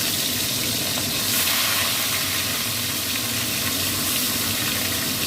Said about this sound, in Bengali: আমি এবার মাছগুলো ভাজতে দিলাম।